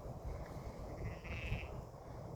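A sheep bleats once at middle distance on a freezing, windy farm field where newborn lambs are about, the short call rising above a constant roar of wind buffeting outdoors.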